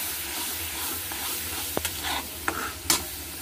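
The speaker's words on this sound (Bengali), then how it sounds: "সব মশলাটা আমি এর মধ্যে দিয়ে দিয়েছি, দিয়ে আমি ভালো করে এটাকে একটু কষিয়ে নেব।" Marinated meat stir-fried with ground spice paste in a pan makes a continuous close sizzle, with several sharp knocks and scrapes as the mixture is stirred.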